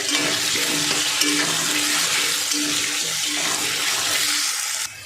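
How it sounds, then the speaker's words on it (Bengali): Potatoes and pointed gourd frying in oil with a little turmeric, a loud continuous crackling sizzle close by, broken by recurring scrapes and clinks of a stirring spoon, fading slightly at the very end. "একদম লাল লাল করে ভাজবো।"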